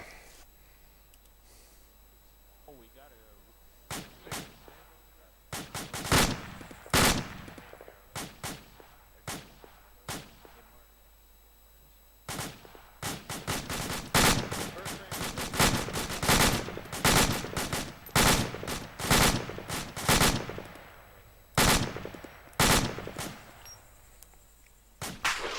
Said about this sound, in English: Still taking fire from somewhere.